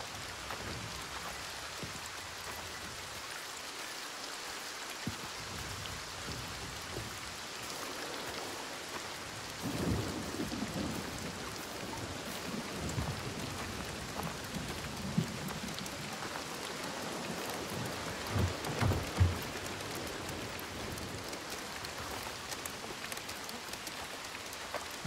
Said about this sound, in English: I'd like to get out of the rain for a little bit.